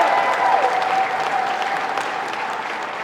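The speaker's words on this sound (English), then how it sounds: "Can we get a clap for that?" A crowd at a press conference claps steadily throughout, dense applause that holds even and then eases slightly toward the end.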